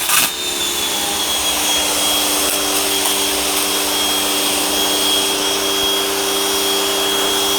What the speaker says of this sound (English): Well, it seems that we have enough pressure, and already in my hand it feels like I have exactly the same pressure.